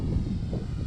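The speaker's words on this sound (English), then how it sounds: "do a nice low pass right at me here" E-flite Clipped Wing Cub RC plane making a low pass toward the pilot, its small motor a steady low drone with wind noise outdoors, no talk.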